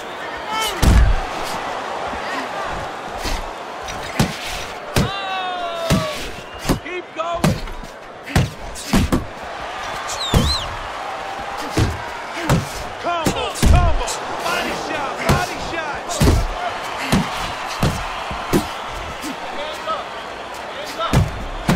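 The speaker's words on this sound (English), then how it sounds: "Devastating power punch by Shotgun." Power punches land in a boxing fight, with repeated loud thudding impacts at irregular intervals over a noisy arena crowd, and a commentator talking throughout.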